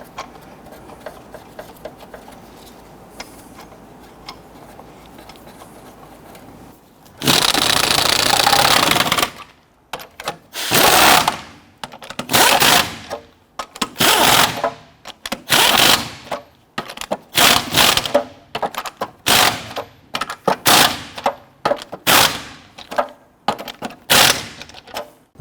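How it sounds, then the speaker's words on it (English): Lug nuts being snugged down on a 2006-2014 Honda Ridgeline wheel make loud mechanical rattling: one long burst, then many short bursts in a quick, uneven rhythm. No voices. "Once we have all of these started, we'll go ahead and snug those down."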